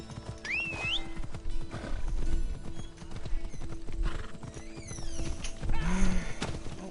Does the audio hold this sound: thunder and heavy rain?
no